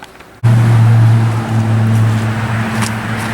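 A go-kart engine with a newly installed throttle cable starts up after a brief quiet moment, then runs steadily with a loud, close, low droning hum that holds for the rest of the span with slight fluctuations.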